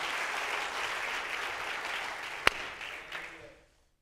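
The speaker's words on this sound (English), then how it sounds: "Would you clap your hands?" A church congregation claps and applauds, a dense steady patter of many hands at moderate distance with one sharp louder clap partway through, fading out toward the end.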